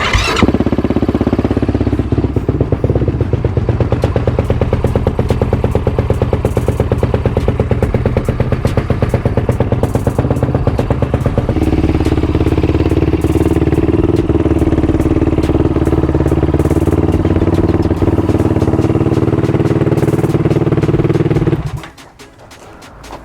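A 2024 Yamaha YFZ450R quad idles steadily and loudly up close after a wash, its engine note shifting slightly midway before cutting off near the end.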